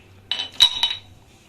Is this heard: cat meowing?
no